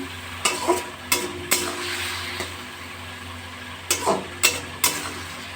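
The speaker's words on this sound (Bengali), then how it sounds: "এর মধ্যে একটু নাড়াচাড়া করে দেবো" Pumpkin ghonto being stirred in a pan over a low gas flame, with several short scraping strokes in two bursts over a steady soft sizzle and a low hum.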